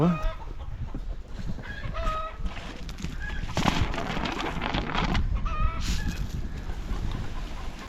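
Chickens cluck and cackle repeatedly nearby, short throaty calls scattered over several seconds amid farmyard background noise.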